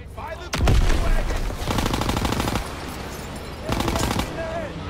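Gunfire from the World War II shooter game Call of Duty WWII, with loud, rapid bursts of machine-gun fire in several long stretches over a dense battle din and voices calling out in the background.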